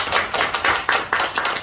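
A church congregation applauds with dense, steady clapping that fills the room, without a break.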